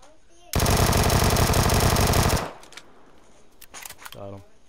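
A loud, unbroken burst of automatic fire in PlayerUnknown's Battlegrounds, lasting about two seconds before cutting off, followed by quieter clicks and a brief voice near the end.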